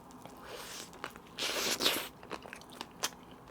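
Biting into a Mom's Touch potato burger, a close crunchy bite with crackling and soft chewing that follows, quiet, with no talking.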